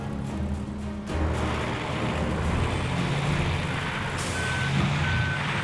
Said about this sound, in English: Our fire truck just came in and got stuck right away.